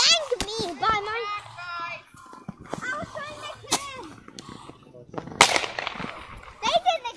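Fireworks go off with a few sharp, cracking bursts, one louder pop standing out near the end, while children talk and shout excitedly close by.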